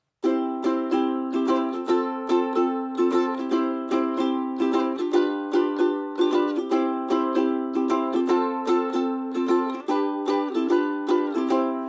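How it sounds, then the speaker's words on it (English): Bright ukulele strings strummed in a quick, bouncy island strum of downs and ups, chords ringing steadily and close with no voices. "Option number 2 is an island strum"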